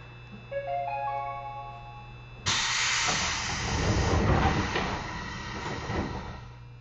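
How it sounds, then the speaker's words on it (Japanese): A loud hiss bursts in after a faint electronic chime sequence, then continues as a broad rushing noise with low rumbling underneath, as the doors of a KuMoHa 204 electric train slide shut at Shitte station, Japan. "扉が閉まります。 ご注意ください。"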